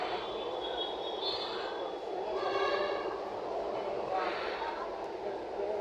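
Rumbling MRT metro train with high whining tones rising and falling as it moves, heard up close beneath a busy crowd.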